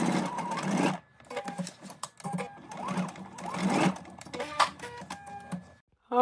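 A sewing machine stitches along the lines of a welt pocket on a garment, running in several close bursts of rapid mechanical needle chatter separated by short pauses.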